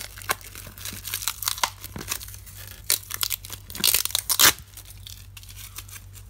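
Plastic packaging on a tarantula delivery being torn and crinkled open, with irregular ripping and crackling bursts, a loud rip near the end over a steady low hum.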